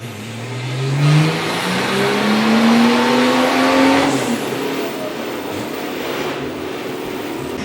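An old turbo-diesel Seat Ibiza TDI engine revs up steadily under load on a dyno, its pitch climbing for several seconds, then settles into a loud sustained roar, close and droning.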